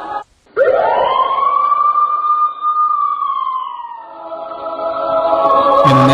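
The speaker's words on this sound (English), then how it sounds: "Here's the scenario. You hear the siren." An emergency siren wails loud and close, one long rising tone that holds and slowly fades, then restarts with a new rising sweep at the end.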